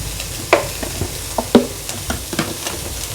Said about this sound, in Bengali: বাঁধাকপিটা আমি একটু হালকা আঁচে এটা হতে দেবো, যাতে বাঁধাকপিটা সিদ্ধ হয়ে যায়